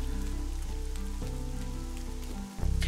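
Rain falling in a park, a continuous patter heard under steady tonal background sounds, with a short dip near the end.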